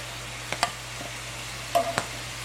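Oil splatters in a frying pan while burger steak cooks. Two sharp crackling pops land over a low steady hum, with a quiet kitchen between them.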